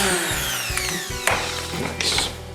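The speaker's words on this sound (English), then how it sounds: "Let's try this sander instead." A sander fitted with 80 grit sandpaper works a guitar body, its steady whine running throughout with a few sharper scraping bursts as the pad meets the wood, close and loud with no talking.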